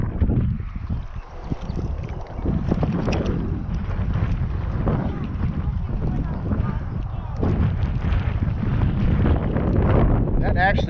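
Strong wind buffeting the microphone while fishing outdoors, a loud continuous rumbling roar with gusty surges, with a voice faintly audible under it.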